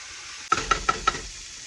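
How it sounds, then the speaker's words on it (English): Quartered onion and baby tomatoes hit a hot pan and begin to sauté with a sudden sizzle, punctuated by four quick, evenly spaced utensil clinks against the pan, close and fairly loud. "I'm just gonna saute that off for a little bit"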